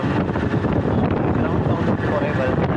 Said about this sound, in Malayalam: നിങ്ങൾ ബൈക്ക് ഓടിക്കുമ്പം ഹെൽമെറ്റ് ഇട്ടുണ്ട്. ഈ സെനാരിയോയിൽ കാറ്റ് ഒത്തിരി ഉണ്ട്.